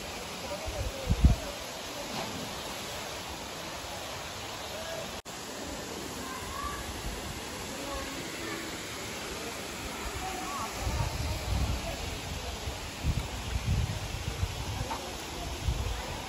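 A year-round waterfall near Jawhar in Nashik district, heard as a steady, full broadband rush of falling water with low rumbling swells, continuous and fairly close for the whole stretch.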